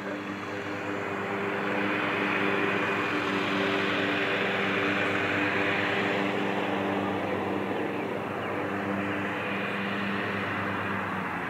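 An E-flite mini Ultra Stick RC airplane flying in to land, its small electric motor and propeller making a steady, fairly loud buzzing drone outdoors with throttle held low.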